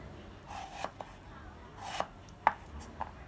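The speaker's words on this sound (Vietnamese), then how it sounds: "mình sẽ thái ngang quả ớt ra" A knife slices crosswise through a chili pepper on a board, giving four or five sharp, separate cuts with short pauses between them, close up and fairly quiet.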